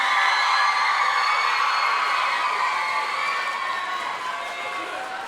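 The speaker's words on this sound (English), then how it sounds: "Let's give them a huge round of applause." An audience at a junior theatre district awards ceremony applauds and cheers in a thick, continuous roar with shrill shouts threaded through it, easing slightly toward the end.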